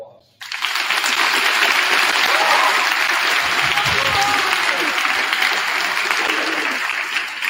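An audience at a National Honor Society induction bursts into sustained applause after a brief pause, steady loud clapping from many hands that carries on for several seconds with a few faint voices mixed in.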